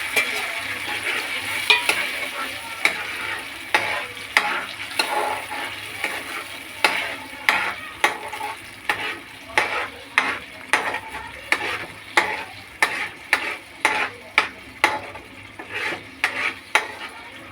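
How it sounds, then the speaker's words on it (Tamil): Ground chutney masala for a rajma dish made without garlic or onion fries in hot oil under a constant sizzle, as a spoon scrapes the pan in quick regular strokes that grow louder and steadier midway. "கரம் ஆயிடுச்சு எண்ணெய். அரைச்சி வச்சிருக்கிற சட்னியை போட போகிறேன்."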